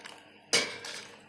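A single sharp clink of a lid or screw cap being put on a jar of chicken stock for pressure-cooker preserving, close and bright, with a short rattling tail.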